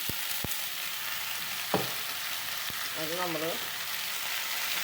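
Cauliflower and a large potato are added to sautéed onions, giving a steady hiss of frying in a pan with a few sharp clinks of a utensil. A voice speaks briefly over the sizzle.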